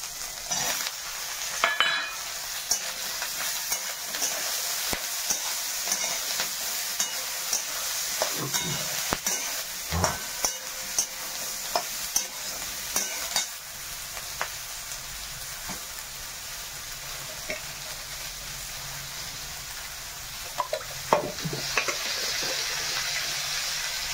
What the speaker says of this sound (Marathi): टमाट्याचे चिरले की इथून भाजायला टाकतो